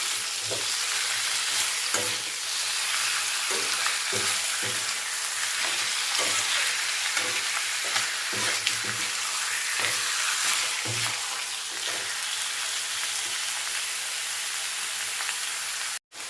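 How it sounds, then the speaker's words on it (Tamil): Chicken pieces sizzle steadily in hot oil in a pan for a Tamil pepper fry, with periodic scraping and stirring strokes of a spatula breaking through the constant frying hiss, close and loud. "சிக்கன் சேர்த்துட்டு ஒரு 5 நிமிஷம் நான் எண்ணெயிலேயே நல்லா சிக்கனை நல்லா வதக்கி விட்டுட்டேங்க"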